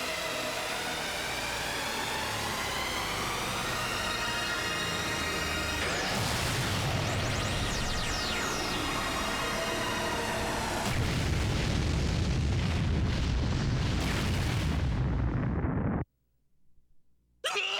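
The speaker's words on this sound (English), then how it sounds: "We're going to hit him with the Spirit Bomb." A Spirit Bomb attack lands on a boss in a video game: a long, dense roar of explosive game effects with sweeping tones and bursts, cutting off abruptly near the end.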